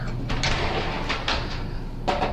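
Glass shower doors slide along their track in the bathroom of a 2017 Airstream Classic 33 RV, giving a few close rolling scrapes and light knocks over steady background noise.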